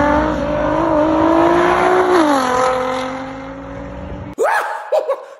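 Car accelerating hard on a racing circuit, a loud close engine roar climbing through the revs with gear-change dips, then cut off by sharp bursts and a squeal.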